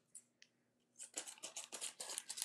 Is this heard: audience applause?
no